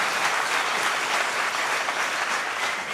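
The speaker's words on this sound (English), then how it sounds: "You can clap." Steady applause from an audience at a school inauguration ceremony, a dense even patter of many hands clapping throughout, moderately distant with no voices over it.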